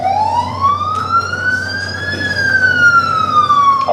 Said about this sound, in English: A police car pulls them over